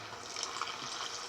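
Milk pours steadily into a pan for a moment, a soft continuous gush, quiet and close, with no voices.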